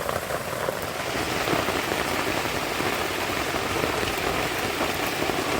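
Heavy rain pounds a tent during a wet night of camping in a bog, a loud, dense, unbroken downpour with no other sounds.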